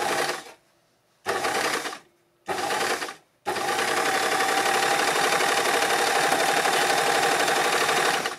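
Overlocker sewing with differential feed at 2 and stitch length at 4, gathering light to medium fabric: three short bursts of rapid mechanical whirring separated by pauses, then a long continuous steady run, close and loud.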